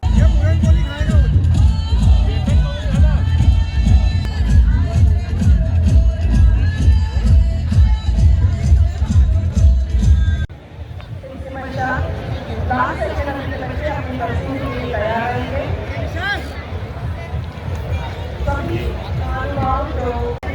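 A dense crowd murmurs and chatters around the food stalls of the Tarun Jatra Marathi food fair in Indore at night, a loud continuous babble that drops to a softer, thinner hubbub partway through.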